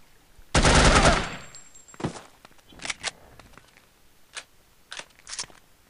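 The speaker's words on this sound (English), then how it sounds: "Stealth is for men without machine guns." A loud, close burst of rapid machine-gun fire in the spy shooter The Operative: No One Lives Forever, followed by scattered single shots and clatter with short pauses between them.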